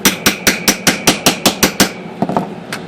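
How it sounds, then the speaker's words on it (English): A bent lower back cover from a Smith Corona typewriter is hammered straight on a hard surface: about ten sharp metallic blows in a steady rhythm, close and loud, followed by a few lighter taps. "I'm going to stick this on here and pound it straight."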